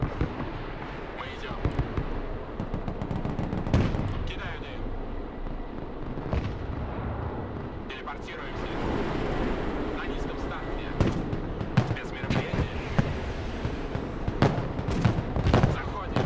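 Gunfire from enemy vehicles in the video game Broken Arrow, scattered sharp shots and distant booms cracking irregularly through a long stretch of battle noise, with someone talking over it.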